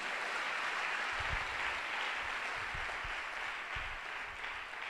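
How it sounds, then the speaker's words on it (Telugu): A congregation at a church sermon bursts into sustained loud clapping, a dense, even wash of applause that continues throughout. "కొట్టు చప్పట్లు ఒకసారి గట్టిగా"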